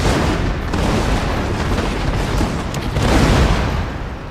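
Heavy gunner units open fire in a Total War Shogun 2 battle, a continuous rolling barrage of booming shots and crackling volleys layered into a dense, loud roar with no gaps.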